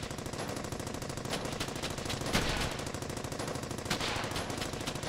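Sustained machine gun suppressing fire in Brothers in Arms: Hell's Highway, a dense unbroken rattle of rapid shots with a few louder cracks poking through, and no voices.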